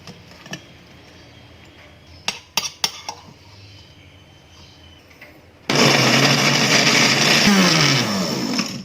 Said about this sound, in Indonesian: Sekarang saya akan memblender cabai-cabiannya.